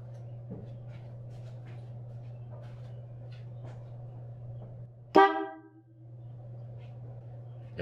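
Horn of a 1966 Plymouth Valiant gives one short, loud blast over a steady low electrical hum, with faint clicks and rustling before it and a brief click afterwards.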